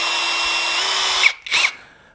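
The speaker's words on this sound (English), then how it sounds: "Get a small drill bit." A power drill fitted with a small bit bores into steel on a 1937 Zephyr, a loud, steady high whine that cuts off abruptly, followed by a second brief burst before stopping.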